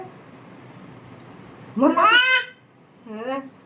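A voice gives two rising, wailing calls imitating a peacock, a longer cry followed by a shorter one, over faint room noise.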